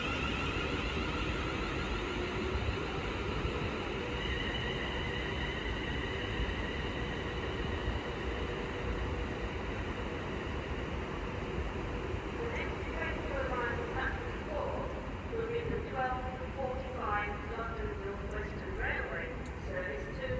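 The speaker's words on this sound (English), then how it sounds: "Now departing is the 12:40 London Northwestern Railway service from Birmingham New Street to" London Northwestern Railway train pulling out of Stafford station, a steady broad rumble of wheels and traction noise that holds throughout, with rhythmic clicking of wheels over rail joints emerging in the second half; a voice talks over it.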